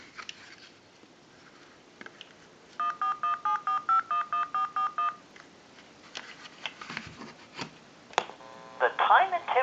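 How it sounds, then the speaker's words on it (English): A tone dialer keys a number on a Western Electric Model 500 desk telephone line: a quick run of about nine evenly spaced, clear two-tone beeps. Brief clicks and a burst of line noise follow. "we'll go ahead and use a tone dialer to dial that number"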